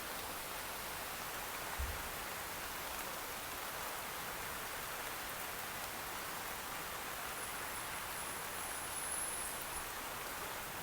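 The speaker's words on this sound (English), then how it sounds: "It's kind of raining and my phone's getting wet" Steady, even rain hiss fills the background, soft and continuous with a faint patter, no voices present.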